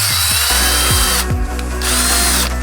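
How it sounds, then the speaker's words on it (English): A power drill boring a pilot hole through the exterior trim by the side mirror of an 11th-generation 2022-23 Honda Civic, steady loud whine with brief bursts and changes in load, close up and alone. "Run a pilot hole from the outside."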